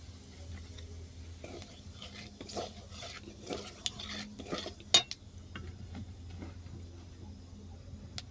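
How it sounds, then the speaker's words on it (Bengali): Nigella seeds tempering in hot mustard-oil-style frying oil in a kadai while cooking flat beans with bhetki fish, giving a soft steady sizzle with scattered utensil clinks and scrapes, close and fairly quiet, no speech. "এরপরে এই ভাজা তেলের মধ্যে দেবো কালো জিরে ফোড়ন"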